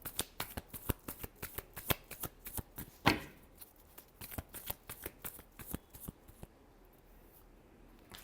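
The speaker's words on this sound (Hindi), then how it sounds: "Last shuffle." A deck of tarot cards is shuffled close up, with quick repeated riffling flicks, one sharper slap partway through, then a softer trailing patter. No one speaks.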